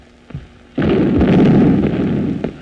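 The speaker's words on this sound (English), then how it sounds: "The stupid field artillery." Field artillery fires nearby, a sudden heavy boom swelling into a loud, sustained rumble that fades slowly, heard in a 1931 film.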